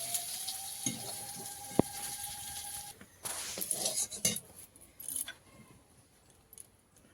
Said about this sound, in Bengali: আলুটাও ভাজা হয়ে গেছে